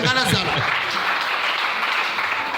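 A church congregation bursts into loud, dense applause that carries steadily to the end, with a voice briefly audible at the start.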